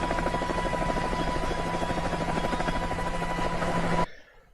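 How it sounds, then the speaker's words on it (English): Steady, very regular helicopter rotor drone with a constant engine whine, loud and unchanging with no Doppler sweep, ending abruptly near the end into near silence. "The helicopter sounds too regular noise, doesn't it?"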